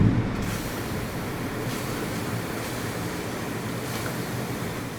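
Summer rain pouring down outdoors, a dense, steady broadband hiss that stays constant throughout, close and loud with no voices.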